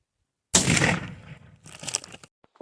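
A sharp, loud rifle shot fired while zeroing an optic, a sudden close crack with a decaying echo, followed by a smaller burst of clatter and the start of another report.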